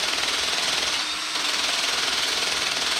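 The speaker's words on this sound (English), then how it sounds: "Hit it with the wire wheel, Johnson." A wire wheel grinds over a weld on a 250cc Mega Moto mini bike frame, a continuous harsh high-pitched scraping hiss heard up close without pause.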